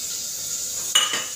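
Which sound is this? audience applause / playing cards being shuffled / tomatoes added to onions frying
tomatoes added to onions frying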